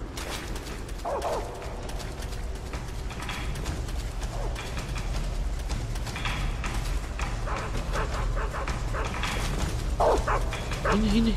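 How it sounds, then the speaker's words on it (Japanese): Dogs in the video game Metal Gear Solid 3 bark intermittently as they close in, a few scattered yelps rising above a dense, steady wash of game noise and movement sounds. "犬来てる、犬来てる。"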